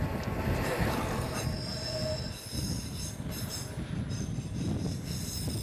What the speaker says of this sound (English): The train gradually makes its way into the alpine regions.